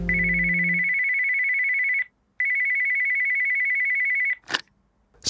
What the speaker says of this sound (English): 20 minutes later, the phone rings.